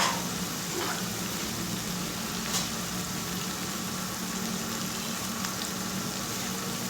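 Spinach frying in a pan for palak paneer, a steady even sizzle and crackle that runs continuously without pause.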